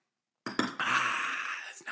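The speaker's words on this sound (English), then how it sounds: "Let me take a little drink here." Someone takes a drink from a glass: a soft clink and handling noise, then a short stretch of close sipping and swallowing, quiet and brief.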